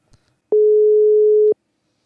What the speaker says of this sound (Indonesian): So langsung aja kita telepon Amarnya kali ya.